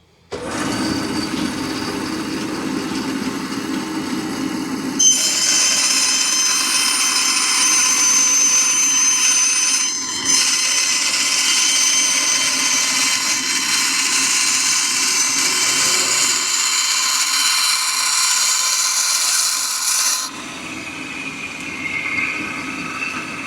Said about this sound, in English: We'll go ahead and use this bandsaw to cut this out.